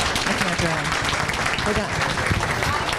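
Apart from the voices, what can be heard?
audience applause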